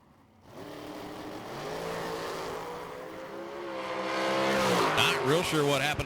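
Race car at the Lone Star Summer Shootout drag racing event, a loud steady engine drone with strong harmonic tones that builds in volume and pitch toward the end, close and continuous.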